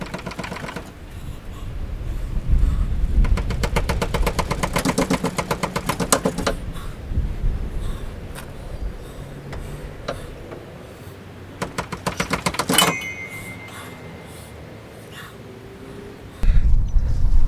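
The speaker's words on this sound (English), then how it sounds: "then I'm gonna pull the drive shaft out" A drive shaft is worked out of a Vauxhall Corsa B fitted with a Saab B204 engine, with close, clattering mechanical bursts like a rattling tool, separated by quieter pauses.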